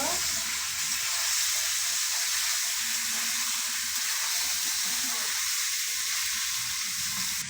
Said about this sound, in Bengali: এবার নেড়ে নেব, নেড়ে নেব।